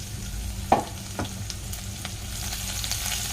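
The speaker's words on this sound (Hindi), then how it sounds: "दस 15 सेकंड इसे फ्राई कर लेंगे अच्छी तरह से" Garlic and green chili frying in hot oil over crackling cumin seeds, a steady low sizzle with a couple of sharper pops near the start, close and alone without talk.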